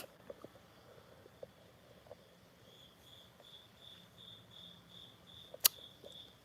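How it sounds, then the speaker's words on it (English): A single cricket, probably in a garage, chirps in a steady regular pulse, faint and somewhat distant, with a sharp click near the end and quiet room ambience. "Yep, that's a cricket you hear."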